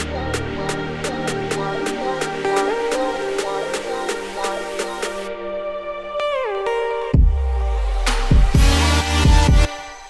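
An EDM build-up runs straight into the drop without transition effects: a sharply pulsing synth line gives way to a brief pitch slide, then heavy bass hits and a denser, louder drop section.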